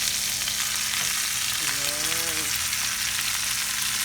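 Garlic hitting a hot frying pan for a honey chicken dish, giving a steady broadband sizzle throughout with a brief clatter and a faint tonal squeal in the middle, fairly close and unbroken.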